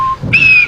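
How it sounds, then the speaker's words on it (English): A brief, shrill steam locomotive whistle blows loudly, starting with a short low tone and then jumping to a sustained high pitch. "And he blew his whistle."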